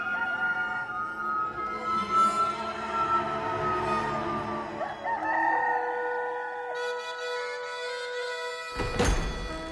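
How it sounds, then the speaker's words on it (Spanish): A rooster crows in a dramatized Gospel of John film scene, a long, strained call over a bed of ambient sound, ending in a sharp thud. "Y al instante cantó un gallo."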